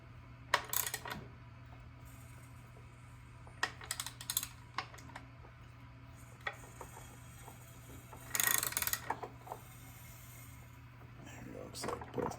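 Ratchet wrench turning over a Kohler Command engine on a Cub Cadet tractor during a head gasket job, giving short bursts of close clicking over a steady low hum.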